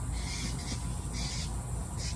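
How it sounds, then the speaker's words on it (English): A bird screams outside in loud repeated harsh calls, several bursts cutting over a constant noisy background. "The bird's screaming again."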